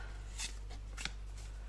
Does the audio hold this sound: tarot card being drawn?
yes